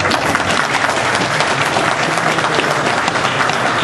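Dense, sustained applause from an audience at a mosque lecture, loud and even throughout with no pauses, many hands clapping together.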